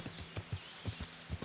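Horse hooves clip-clop in the medieval video game Kingdom Come: Deliverance, a faint, steady rhythm of paired hoof strikes at a walking pace with no talk.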